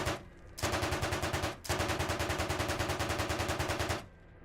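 Automatic gunfire in ArmA Reforger sounds as two long rapid bursts of loud, evenly spaced shots, with a brief pause between them and a faint tail after the firing stops.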